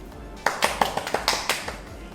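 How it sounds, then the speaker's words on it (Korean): A handful of sharp hand claps, about eight in quick uneven succession, ring out close and moderately loud in a quiet indoor room, alone with no talking. "박수!"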